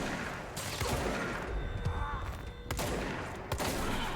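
Gunfire in the video game Control as enemies are hit, a busy mix of repeated shots and impacts running throughout with game sounds layered over them, no speech.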